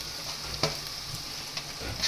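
Garlic sizzling in hot oil in a pan while making homemade Kathiyawadi-style Manchurian, a steady close frying crackle with a few brief louder pops and stirring scrapes.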